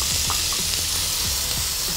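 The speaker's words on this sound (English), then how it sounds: "Gotta love that sizzle." Bacon fries in a little oil in a pan for a noodle stir fry, giving a steady close hiss of sizzling with faint scraping stirs underneath, no talking.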